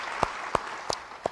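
Applause from a church congregation during a sermon, a broad wash of clapping with a few sharper individual claps standing out at a moderate distance.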